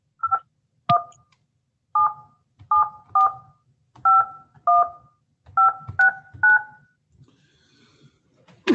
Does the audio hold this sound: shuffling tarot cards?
no